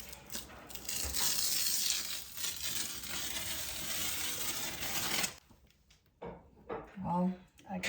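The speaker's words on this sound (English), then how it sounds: "let me just pull the tape off" Painter's tape peeling away in a living room corner, a loud continuous ripping, crackling tear lasting about five seconds, followed by a quieter pause and a brief voice.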